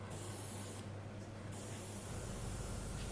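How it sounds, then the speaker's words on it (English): Airbrush giving a short test spray of paint during woodturning decoration, a steady close hiss lasting the whole moment with a slight dip midway, no voices. "I'm going to do a little test spray just to make sure I'm not throwing out a huge amount of colour here."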